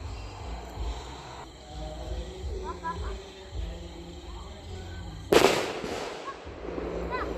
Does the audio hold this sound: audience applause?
no